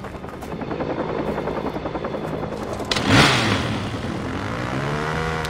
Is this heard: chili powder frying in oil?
no